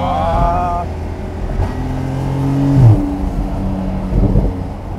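Porsche 911 Type 992 Turbo S Cabriolet with the top down, its engine revving and rising in pitch in a couple of surges while driving, heard close with wind and road noise around it.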